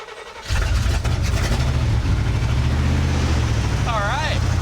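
A 1977 Chevrolet C-30 square body tow truck's old engine catches and settles into a steady, rumbling idle that runs throughout, with a voice speaking over it near the end.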